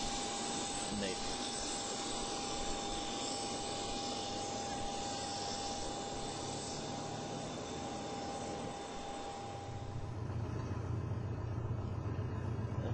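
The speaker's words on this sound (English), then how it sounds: "We're saying goodbye and taxiing down to the end of the runway to get ready for a takeoff." A small airplane taxis toward the runway at Lantana, Florida, its engine and propeller holding a constant, close droning hum with a steady tone on top. The engine note shifts lower near the end.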